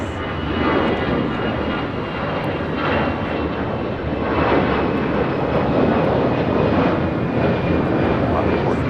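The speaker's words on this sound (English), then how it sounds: "This is American Airlines 2546 taking off to Mexico City on an A319" An American Airlines Airbus A319 taking off from LAX gives a loud, steady jet engine roar that fills the whole stretch and swells slightly midway.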